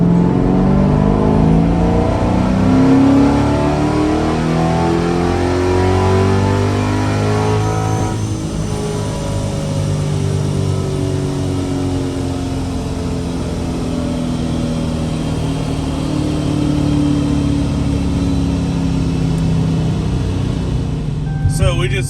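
A tuned high-horsepower car engine revs hard through a dyno tuning pull. The loud, sustained roar sweeps upward in pitch, eases back partway through, then climbs again, with talk mixed in.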